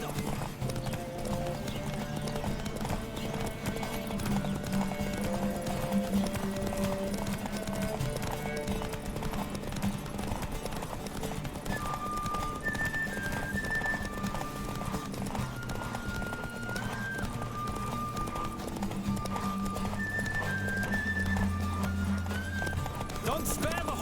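A horse gallops in The Witcher video game, its rapid hoofbeats pounding steadily throughout a horse race under game music, with voices talking over the drumming of the hooves.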